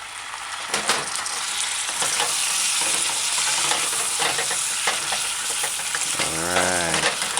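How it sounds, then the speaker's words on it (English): Vegetables such as cauliflower are stirred into chicken frying with oyster sauce, a loud close sizzle layered with repeated scraping and clattering stir strokes, steady with no talk. "Next, add your prepared vegetables."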